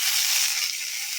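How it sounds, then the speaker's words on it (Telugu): Tomatoes frying in hot oil in the same pan just used for cooking, a steady, close, bright sizzle that holds evenly throughout without any voices. "అవి తీసుకొని మళ్ళీ అదే బండిలో టమోటాలు వేసేద్దాము."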